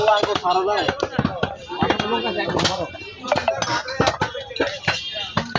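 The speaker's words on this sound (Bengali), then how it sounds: "অসংখ্য কষাই দেখা যাচ্ছে গোশত কাটতেছেন" Butchers chop meat at a crowded madrasa mahfil gathering, with repeated sharp chopping blows and clinks of metal on meat and block, in an irregular rhythm under steady crowd chatter and talking.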